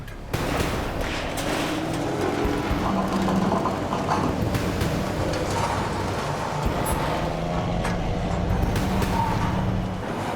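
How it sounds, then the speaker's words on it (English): A heavy tow truck strains its drivetrain while hauling a tractor up a canyon slope to the road, a loud engine roar with grinding and clanking, occasional sharp bangs, and low rumble running throughout. "Now Cam will use the General's powerful drivetrain to try to bring the tractor up to the road."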